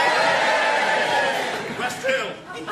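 A live comedy audience in Gateshead cheers on cue, loud crowd whoops and shouts filling the room and tapering slightly toward the end, with mixed voices throughout.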